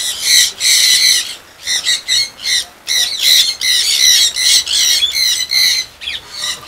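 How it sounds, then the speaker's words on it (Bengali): Several conures squawk loudly and close by in the rain, their harsh calls repeating in rapid bursts that overlap and barely pause. "কনিয়রগুলা দেখেন ঝুলে আছে এদিকে।"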